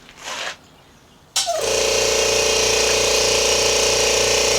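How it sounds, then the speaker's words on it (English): After a short quiet pause, a small oilless 'silent' air compressor switches on abruptly and runs with a steady, loud mechanical hum and buzz, close by and unchanging for several seconds. "Let's turn it on and listen to how it sounds."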